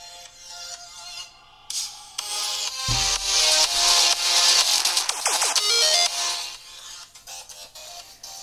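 Music plays from a Doogee Mix smartphone's loudspeaker, thin and bright with a layered melody, rising in volume partway through and then tapering off, without any talk.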